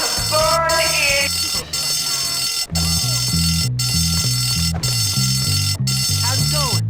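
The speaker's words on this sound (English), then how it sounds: "Whoever pulled that fire alarm" A fire alarm rings continuously in a building, a loud pulsing electronic tone with a steady repeating pattern, while voices talk over it.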